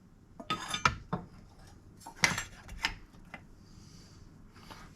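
Kitchen knife drawn back and forth across a rolling diamond-blade sharpener, heard as a few separate scraping, clinking strokes spread out with short pauses between them, close and fairly quiet, with no one talking.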